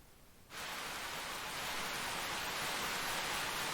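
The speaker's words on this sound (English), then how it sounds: "A gentle rain begins to fall." Gentle rain in the video game Fate Extra starts abruptly after a brief quiet moment and then falls as a steady, even hiss that fills the scene.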